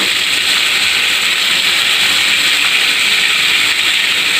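Ginger with salt, turmeric, cumin and coriander powder frying in a pan, giving a steady, loud, unbroken sizzling hiss throughout, with no talk.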